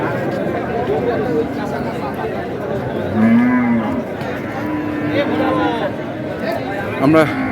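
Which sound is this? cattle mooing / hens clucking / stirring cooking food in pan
cattle mooing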